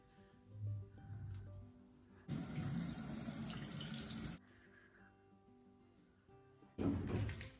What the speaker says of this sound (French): Je vais quand même passer un peu d'eau après.